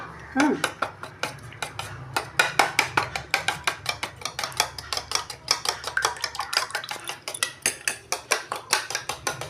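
A whisk or fork beats a milk and egg mixture in a bowl, sounding as fast, regular metallic clinks against the sides in a steady rhythm, fairly close, with faint room noise underneath.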